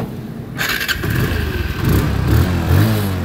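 A second-hand TVS Apache RTR motorcycle in fresh condition fires up and revs close by, its engine rising in loud, throaty surges that build toward the end, with no talking.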